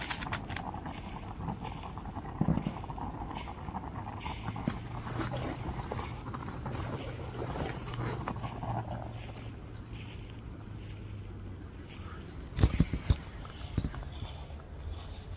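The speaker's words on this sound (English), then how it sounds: "he heard the footsteps again, but this time they were louder and closer" Footsteps tread outdoors at a campsite, soft irregular steps under a low steady hum, with a sharper cluster of louder, closer knocks near the end and no clear speech.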